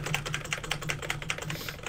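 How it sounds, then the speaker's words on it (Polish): Repeated clacking of keys on a new computer keyboard, a steady run of quick, close taps with the space bar hit hard, alone and fairly loud during a Minecraft party game session. "nowiutka klawiatura, już spacy zajeżdżam"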